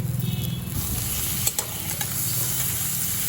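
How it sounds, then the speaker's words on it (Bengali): Spices and potatoes frying together in oil in a home kitchen for a Bengali fish-head and cabbage dish, a steady close sizzle with a couple of sharp scrapes of a spoon against the pan. "সমস্ত মশলা আমি এই তেলের মধ্যে আলুর সাথে ভালো করে ভেজে নেব"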